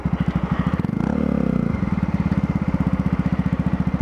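A small motorcycle engine revs hard, a near, loud, rapidly pulsing buzz that rises and falls once before settling into a steady fast chatter.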